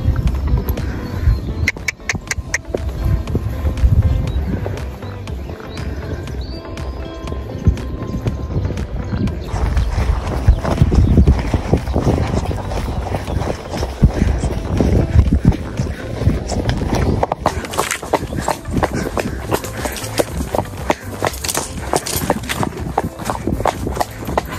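A horse walks on hard ground with steady, close hoof clip-clops throughout, accompanied by faint rustling and an occasional bird call.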